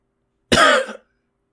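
A single short, sharp cough, close and clear, with silence before and after.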